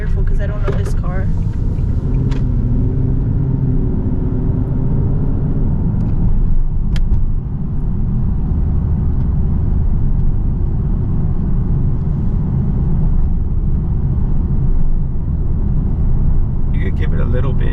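Cabin drone of a 2018 Nissan 370Z NISMO on the road, a steady low engine and tyre rumble filling the interior while people inside talk over it.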